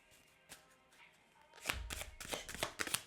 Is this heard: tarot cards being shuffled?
yes